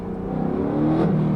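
A 2024 Mustang GT engine revs up during a downshift, a loud, close, steady roar that climbs in pitch toward the end, with no talk over it.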